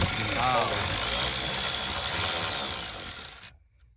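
A Milwaukee 3/8-inch battery-powered ratchet whirs steadily at close range with a mechanical buzz, under some background noise, then cuts off abruptly near the end.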